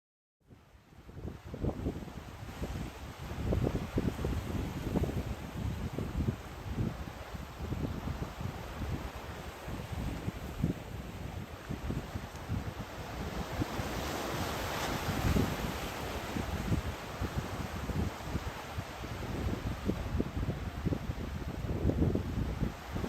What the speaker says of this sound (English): Are those waves going in reverse?